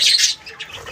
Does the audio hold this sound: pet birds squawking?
yes